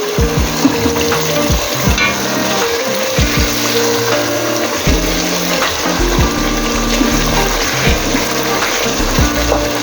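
Potatoes frying in hot oil for a Swahili beef pilau, a steady loud sizzle with stirring and scraping in the pot throughout, no talking.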